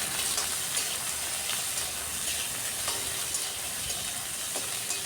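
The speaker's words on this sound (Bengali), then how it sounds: "বারবার নাড়াচাড়া করে একটু হালকা করে ভেজে নেব যাতে পেঁয়াজের কালারটা চেঞ্জ হয়ে আসে।" Onion with a little ginger and garlic frying in a pan, giving a steady, dense sizzle that runs throughout, with faint scrapes of stirring now and then.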